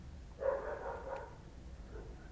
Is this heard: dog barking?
yes